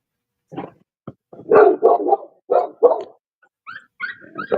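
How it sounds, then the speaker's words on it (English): Several dogs bark in short, loud, close bursts, a run of sharp barks followed by higher yips and whimpering cries, with brief silent gaps between them. "Dogs."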